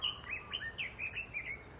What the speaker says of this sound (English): I think the birds are agreeing.